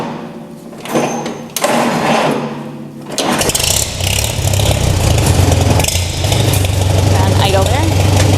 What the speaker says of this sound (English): Now I'm going to start the tractor and see if that increases.